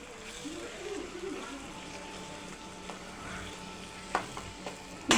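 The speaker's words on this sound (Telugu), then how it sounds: "ధనియా powder, garam masala, chilli paste వేసుకున్నాక గ్రీన్ చిల్లీ పేస్ట్ ఫ్రై కావాలి మంచిగా" Green chilli paste with coriander powder and garam masala frying in a pan for a kandi gingala curry, a steady low sizzle with soft stirring scrapes and a few sharp clinks near the end.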